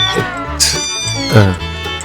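A feral cat meows loudly and close, giving two drawn-out, wailing calls.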